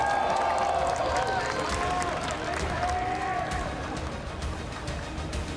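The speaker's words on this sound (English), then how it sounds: "Can we get a round of applause for G2," Crowd applause and cheering at a League of Legends esports semifinal fill the space in a dense, continuous wash, with a voice speaking over it.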